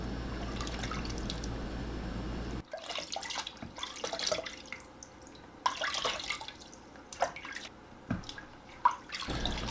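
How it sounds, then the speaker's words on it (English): Tap water runs and splashes in a sink while a face is rinsed at night, a steady near flow giving way to irregular drips, splashes and handfuls of water, with no talking. "Now you can rinse your face. I love doing it so much because just by the sound of the water, it already has a satisfying effect."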